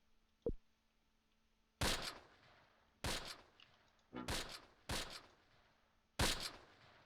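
Sharp gunshots ring out in a Close Combat World War II tactical game, one early shot followed by five louder reports spaced about a second apart, each with a short echoing tail.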